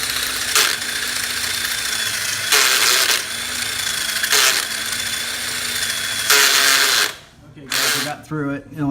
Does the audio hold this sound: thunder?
no